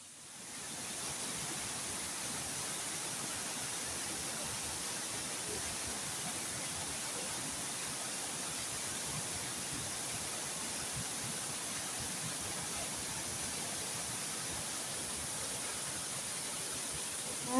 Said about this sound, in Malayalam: ഈ തൊട്ടടുത്തുള്ള ഒരു വെള്ളച്ചാട്ടം ഉണ്ട് കേട്ടോ